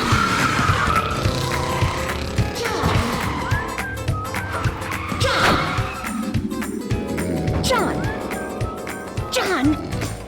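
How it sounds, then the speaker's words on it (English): Race cars roar and skid as a sound effect in an advertisement, with repeated tire squeals and revving engines layered into a busy, loud mix; a voice is heard over part of it. "Racers, start your engines."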